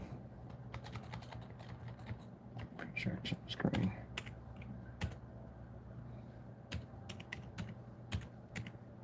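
Clicky computer keyboard typing comes in irregular bursts of keystrokes close by, with a voice speaking briefly over the tapping.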